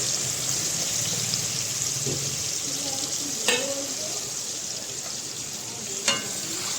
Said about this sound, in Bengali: মাংসগুলো ফ্রাই করে নেওয়া হচ্ছে হালকা করে নুন হলুদ দিয়ে